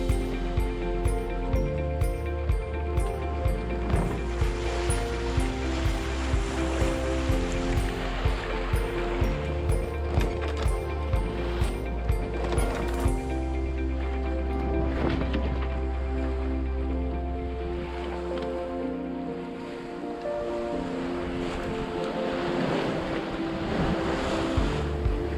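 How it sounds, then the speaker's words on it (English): Offshore sailing aboard a sailboat, with steady wind and rushing waves washing against the hull, continuous and fairly loud throughout, while a repeating musical pattern plays over the water noise. "This will be another beautiful day of sailing."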